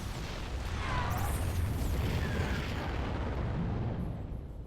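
Roaches attacking in StarCraft II, a dense game-combat barrage of rumbling bursts and impacts with faint sweeping zaps, loud and sustained for several seconds before easing slightly.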